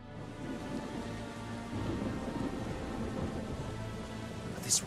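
Steady rainfall with low rumbling thunder from a stormy battlefield in Valkyria Chronicles 4, a continuous wash of rain noise at even loudness with a brief brighter splash near the end.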